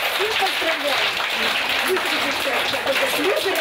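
Audience applause at a regional children's arts festival awards ceremony in the Nenets Autonomous Okrug, a steady wash of many hands clapping from a hall, continuous and fairly loud with voices over it.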